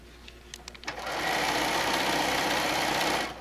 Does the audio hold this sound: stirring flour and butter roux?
no